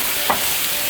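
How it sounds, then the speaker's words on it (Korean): Green garlic leaves stir-fried in a hot pan with pork for a Korean stir-fry, giving a steady, loud sizzle with a brief scraping stir. "어느 정도 볶아졌으면 여기에 잎부분도 같이 넣어서 볶겠습니다"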